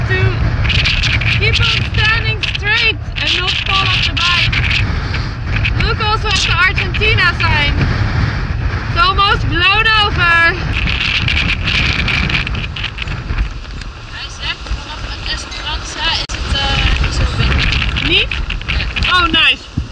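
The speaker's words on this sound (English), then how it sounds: "The wind is blowing so much here that it's hard for me to keep on standing straight" Strong Patagonian wind roars and buffets a microphone outdoors, loud and gusty throughout, with a voice talking over it now and then.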